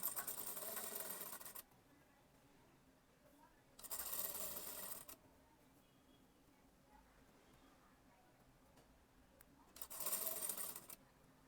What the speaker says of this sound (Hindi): फुट के पीछे से कपड़े को खींचते हुए सिलाई करें।